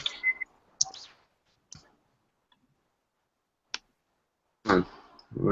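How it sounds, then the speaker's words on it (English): A computer keyboard clicks sparsely as data is typed in for a statistics problem: a few quick taps, then scattered single clicks separated by quiet pauses, close and fairly soft. "I'm still typing these in"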